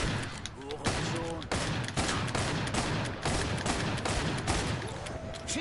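Rapid rifle fire in the video game Killing Floor 2, repeated loud bursts of shots filling the whole stretch with short gaps, with brief game sounds mixed in.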